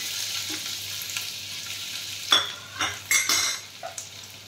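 Chopped ginger and green chilli fry in ghee in a pan, giving a soft, low hiss broken by several sharp scrapes and clatters of a spoon against the pan.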